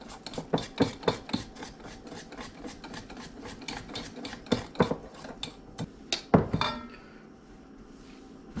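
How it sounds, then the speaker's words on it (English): Summer shandy beer is mixed into a fish batter for smelt, giving close, rhythmic scraping and clinking of a utensil against a bowl. The strokes come irregularly, then stop, with no voices. "Mix that into the batter."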